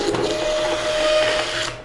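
A Kassen DT640 label printer runs through a test label print, giving a steady close mechanical whir with a faint tonal hum for about two seconds, with no voices.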